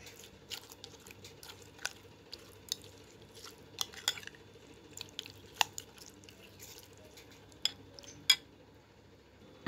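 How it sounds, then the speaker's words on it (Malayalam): Mustard-tempered salad being stirred and mixed in a bowl, giving quiet wet squelches and scattered small clinks of a spoon against the bowl, intermittent and close, with no talk. "ഇനി നന്നായിട്ട് നമുക്ക് ഈ സലാഡ് ഇളക്കി യോജിപ്പിക്കാം."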